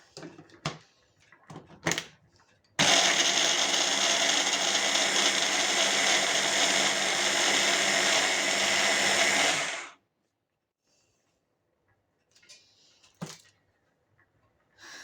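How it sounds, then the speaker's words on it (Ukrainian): A blender whirs loudly and steadily for about seven seconds mixing eggs and garlic, with brief clatter and handling noises before it starts and after it stops. "В блендері змішую яйця і чесник поки."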